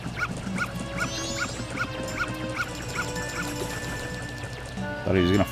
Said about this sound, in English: Dog, go away,